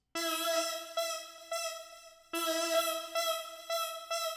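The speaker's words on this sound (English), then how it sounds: "I changed the plugin to be a JD 800 lead, so then it sounds like this" A bright, brassy Roland JD-800 synth lead plays a short repeating melody of sustained notes, each with a sharp attack, clean and alone.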